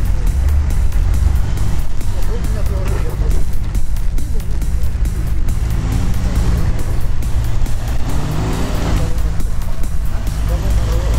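An off-road car revving and straining as it drives through a sand quarry, its engine loud and steady throughout, with people talking over it.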